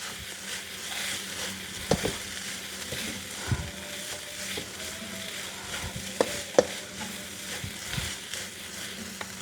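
Food in a wok being stirred with a sauce packet mixed into a Korean dish, with a steady sizzle under repeated scraping and clanking strokes of a utensil against the pan, close by.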